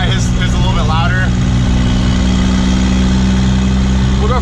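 A Cummins diesel truck with a 4-inch downpipe and 4-inch exhaust rumbles at a loud, steady idle, someone talking briefly over it at the start.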